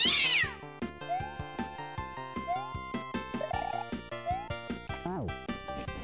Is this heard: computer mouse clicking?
no